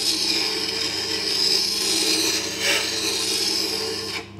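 A woodturning tool ground on a Tormek sharpener gives a steady, close grinding rasp that holds evenly for about four seconds before easing off at the end.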